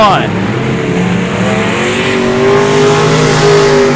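Race cars in a heat race at I-37 Speedway, engines roaring loudly and steadily as they run the oval, with an announcer talking over the noise.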